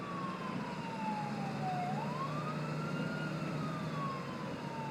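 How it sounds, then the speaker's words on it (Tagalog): A siren wails slowly from a distance, its pitch falling then rising again, over a steady low traffic rumble. "Gabi-gabi akong nakaririnig ng sirena ng ambulansya na sobrang lakas."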